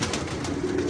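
Pigeons cooing close by, a soft low throaty coo rising over a steady background hiss, continuous through the short stretch.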